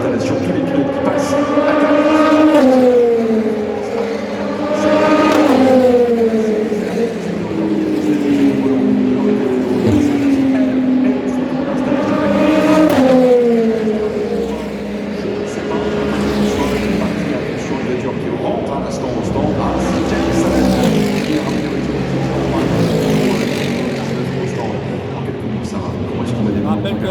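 Le Mans race cars on an installation lap during the 2026 24 Hours of Le Mans Hyperpole session, passing one after another with engine notes that rise and fall as each approaches and fades, over a steady roar.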